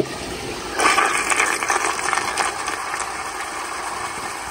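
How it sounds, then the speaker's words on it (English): Zurn child-size toilet flushing: a sudden rush of water starts after a quiet moment and continues as a steady, moderately loud swirling gush with no talk over it. "Here's another flush."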